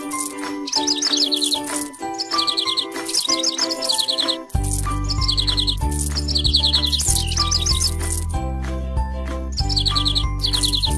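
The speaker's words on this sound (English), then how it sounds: "Let the birds sing." Cartoonish birdsong of repeated bright chirps and tweets sounds in a pony care video game, set over a tinkling lullaby-style melody that turns fuller with a bass line midway, steady and fairly loud throughout.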